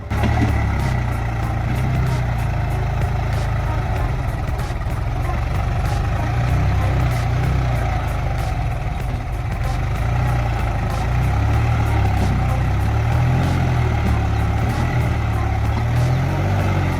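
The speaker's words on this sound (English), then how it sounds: "The tractor must haul a heavy dirt trailer up a dry, slippery hill" A tractor strains to haul a heavy dirt trailer up a dry, slippery hill. The diesel engine drones loud and close for the whole stretch, with a low rumbling pulse that swells and falls as the wheels labor.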